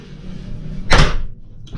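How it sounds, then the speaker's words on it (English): A boat's compact shower door swings shut with a single sharp, close knock and rattle, followed by a faint second tap. "You close the door,"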